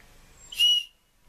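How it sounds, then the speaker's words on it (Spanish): A small survival-kit whistle, part of a kit with paracord, compass and ferro rod, gives one short, shrill blast of about a third of a second, loud and close, followed by near silence. "Silbato. A ver."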